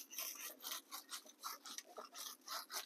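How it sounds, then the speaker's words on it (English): Wire terminal cleaner rhythmically scrubbing corrosion off a car battery terminal on a Honda Element, giving quiet, rapid back-and-forth rasping strokes, close and alone. "I'm going to take my terminal cleaner"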